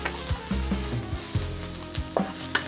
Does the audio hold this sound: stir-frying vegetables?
yes